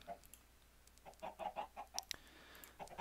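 Chickens in the game Minecraft cluck in short repeated bursts, several quick clucks in a row with brief gaps, fairly faint and close, with a few clicking sounds mixed in.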